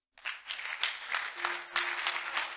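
A church congregation bursting into applause, many hands clapping together in a steady, lively patter that swells and keeps going, with a faint voice underneath.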